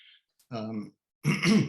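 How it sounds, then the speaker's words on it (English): A person clears their throat twice, a short rough rasp and then a louder, longer one, close to the microphone in a quiet room, during a poetry reading. "I may have to clear my throat now and then, and I apologize for that"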